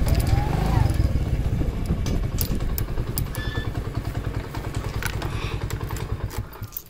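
A motorcycle pulls up at a farm, its engine rumbling loud and close and settling into a steady, pulsing idle, with clatter and scrapes over it.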